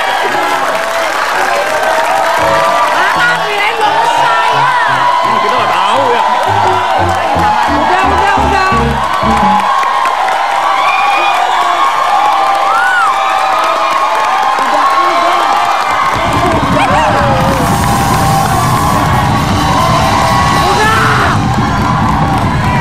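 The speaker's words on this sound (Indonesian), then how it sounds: "Tepuk tangan!" A studio audience at an Indonesian television game show claps and cheers loudly and continuously, with whoops and shouts rising over the dense applause and a fresh surge of cheering late on.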